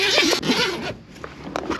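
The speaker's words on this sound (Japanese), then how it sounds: "まずはですねこのチャックを外します" The zipper on a Honda Beat's convertible soft top is pulled open, a close, crisp rasp followed by a few shorter zip strokes and light fabric rustle, with no voices.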